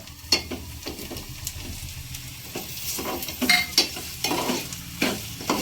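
Onion and okra are sautéed in a pan, with repeated spatula scrapes and taps landing irregularly over a continuous close sizzle and no voices.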